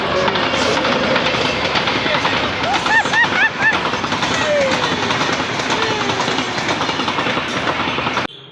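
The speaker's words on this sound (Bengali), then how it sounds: "স্টেশনে ঢুকতেই দেখছি ট্রেন ঢুকছে" A local train rumbles steadily into a station, with broad continuous rail noise, faint squeals and a soft rhythmic clatter throughout, fairly close.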